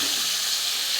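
Onion dropped into hot oil in a pan for a fish curry, giving a loud, dense, close sizzle that holds steady for a moment.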